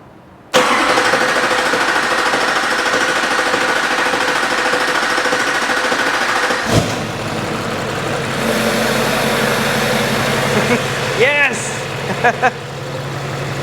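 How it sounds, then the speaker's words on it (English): Duramax diesel engine fires up for the first time in a build, catching abruptly and settling into a loud, steady clattering idle that runs throughout, with a few clanks and a brief rev change near the end. "let's see if this thing is gonna start"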